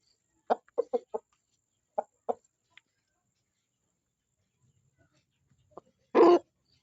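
A favourite pet rooster gives a quick series of short clucks, a pause, a few more scattered clucks, then one louder, longer call near the end, close to the listener in otherwise quiet surroundings.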